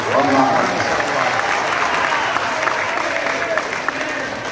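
A crowd in a mosque claps during a sermon gathering, sustained, fairly loud applause filling the space with a few voices audible beneath it.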